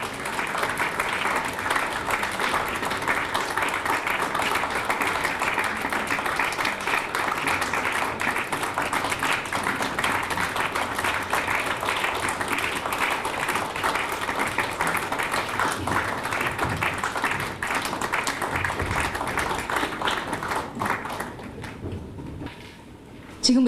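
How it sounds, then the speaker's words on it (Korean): Sustained applause from a large crowd fills the hall, steady and dense, tapering off near the end, welcoming guests at a graduate school entrance ceremony. "힘찬 박수로 다시 맞이해 주시기 바랍니다"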